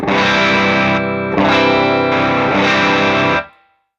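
Electric guitar in an analog rig driven through an overdrive pedal unlike typical 4558-type circuits, loud distorted chords strummed in a few sustained blocks close up, then cut off into silence.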